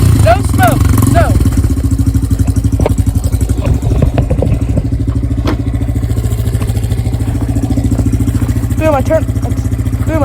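An XR dirt bike engine idles loudly and close by with a steady rapid chugging, while a person talks over it at intervals.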